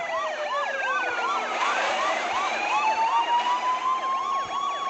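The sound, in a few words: police car sirens in video game Car Simulator 2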